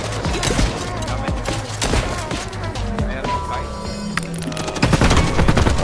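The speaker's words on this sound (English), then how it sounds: "I'm getting shot at right now." Rapid video game gunfire in a multi-squad battle, dense bursts of automatic shots and scattered single cracks, loud and close, with a voice talking over part of it.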